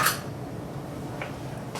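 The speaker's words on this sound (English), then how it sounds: "I'm gonna spoon that mushroom and that onion gravy" Mushroom and onion gravy spooned over hamburger steak and rice, a soft clink of spoon on dish at the start, then quiet wet shuffling and a faint tap near the end.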